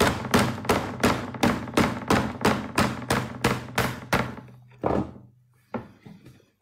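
A tablet is struck by a series of heavy blows, about a dozen sharp thudding impacts in a steady rhythm, followed by two more isolated hits after a pause, close and loud.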